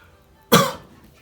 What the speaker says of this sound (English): that cough just came out of nowhere